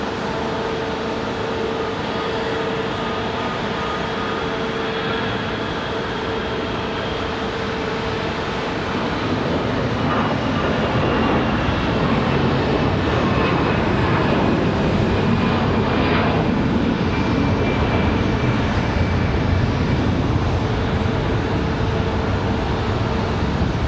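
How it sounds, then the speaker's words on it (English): An American Airlines Airbus A321 jet arriving at Raleigh-Durham International Airport, a continuous engine roar with a faint tonal whine that swells louder over the second half as the plane draws nearer. "Looks like an American A321 from Charlotte."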